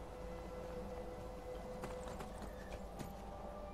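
Horse hooves clop along in the video game Skyrim on a northern shore path, a faint steady clip-clop of light irregular steps over a low ambient bed.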